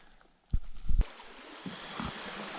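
A small babbling brook flows beneath a wooden footbridge on a forest backpacking trail, giving a soft, faint, steady trickle after a couple of close thumps at the start.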